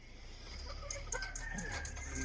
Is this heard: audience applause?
no